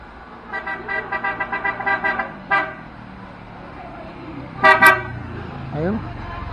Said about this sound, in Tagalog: Ayan po, nadidinga po natin yung busina.